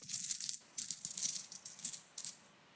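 Several rapid bursts of bright metallic clinking and rattling, like a handful of coins spilling and jingling, close and fairly loud.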